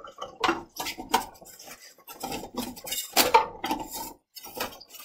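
Plastic lid fitted back onto a film developing tank after the fixer step, a series of close clicks, knocks and rattles spread over a few seconds, with no talking.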